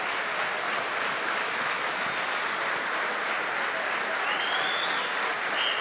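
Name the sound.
ice hockey fans clapping at end of game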